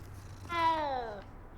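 A single clear cat meow from the video game Hogwarts Legacy, a rising-then-falling call lasting about two-thirds of a second, near and alone over faint background hum.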